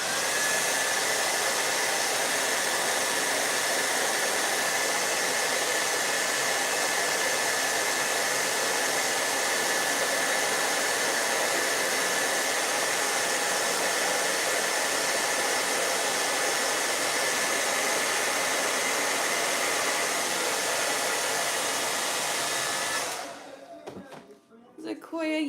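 A hair dryer blows a steady, loud, unbroken roar for over twenty seconds while paint dries on a dreamscape painting. It then cuts off abruptly, leaving near silence.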